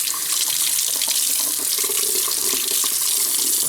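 Tap water runs steadily over a Visconti Homo Sapiens fountain pen nib as it is rinsed in a sink, a continuous bright hiss and splash that stays close and even throughout, with no talking.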